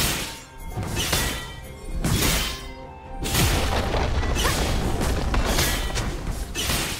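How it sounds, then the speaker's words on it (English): Turret destruction in League of Legends: loud, dense crashing booms come in repeated waves, with heavy impacts and rumbling debris continuing throughout, and no talking. "Blue team's turret has been destroyed."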